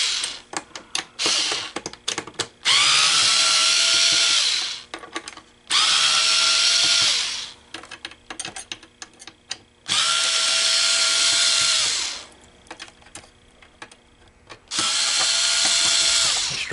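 Heavy DeWalt power driver removes screws while a Coinco BA30B dollar bill validator is taken apart, with four loud whirring bursts of several seconds each separated by clicks, clatter and handling of parts.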